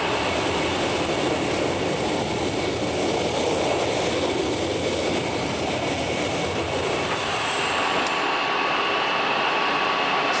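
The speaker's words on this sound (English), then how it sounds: "the new recruits take to the skies, flying circuits, practicing those all-important landings" A Concorde flying training circuits roars overhead, its jet engines giving a loud, steady, broad rumble with a high whine that holds throughout, no voices present.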